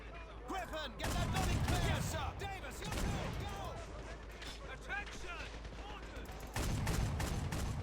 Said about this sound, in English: Bren gun doing a good job of holding them down.